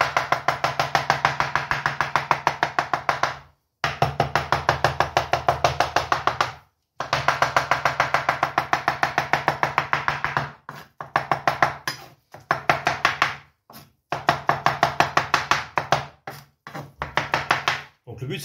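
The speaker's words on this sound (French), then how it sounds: "Donc là on y va vraiment comme si on voulait le hacher." A knife finely chopping eggplant on a board for eggplant caviar, rapid steady blows in long bursts broken by brief pauses, close and fairly loud with no talk.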